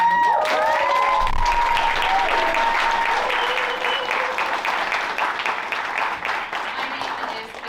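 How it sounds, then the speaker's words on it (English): A demo day audience at Blackstone breaks into loud, sustained applause, dense clapping filling the room and slowly tapering off, with a few faint voices and tones mixed underneath. "Please give yourselves a round of applause."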